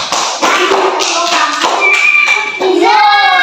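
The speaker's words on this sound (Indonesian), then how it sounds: "Benar, tepuk tangan." Young primary school children clap together in a classroom during a quiz, with loud, close taps and claps over lively voices and a child's sung tones.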